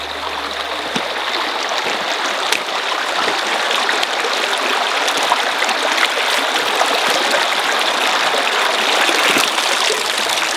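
Water pours steadily from two outlets during a test, a loud, continuous rushing flow with fine splashing texture that runs unbroken throughout.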